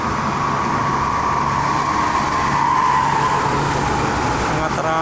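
Busy traffic on the Jakarta–Cikampek toll road at dusk, thick with freight trucks and buses. A continuous roar of passing vehicles and tyre noise holds steady throughout, with a rising whine and a brief hiss near the end.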